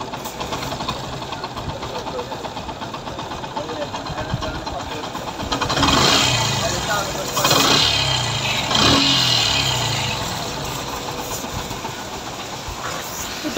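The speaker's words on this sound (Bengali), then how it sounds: "এটা হচ্ছে FZS version 3 BS6 sound problem." A Yamaha FZ-S V3 BS6 motorcycle engine with a sound problem runs steadily in a repair shop, its idle swelling louder in a few revving surges midway before settling back.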